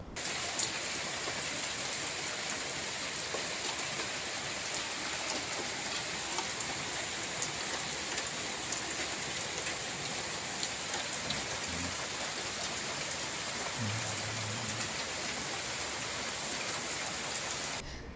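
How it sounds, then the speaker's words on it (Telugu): Evening showers fall steadily on surfaces around Nellore, a dense, even hiss of rain that continues without a break, with no voices. "చెదురుముదురు జల్లులు పడ్డాయి"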